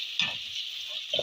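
Potatoes frying in oil in a wok give a steady, close hiss that runs throughout, with a couple of brief stirring scrapes over the top of it.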